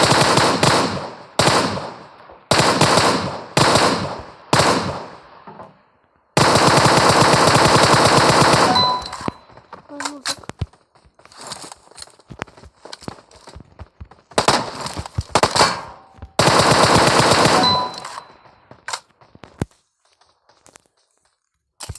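Bursts of automatic gunfire in a first-person shooter video game, several rapid sustained volleys with short pauses, loud and close, followed by scattered quieter shots and game sounds.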